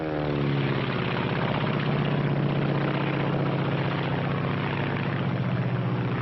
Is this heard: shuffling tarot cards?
no